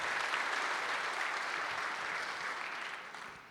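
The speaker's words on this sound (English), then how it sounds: "Big round of applause." An audience applauds at a closing-remarks event, dense sustained clapping that fills the room and tapers off toward the end.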